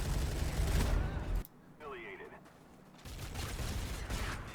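Rapid M8A1 rifle fire from Call of Duty Black Ops 2 rattles loud and dense for over a second, drops to near silence with a faint electronic effect, then the game's gunfire and action noise return at steady volume.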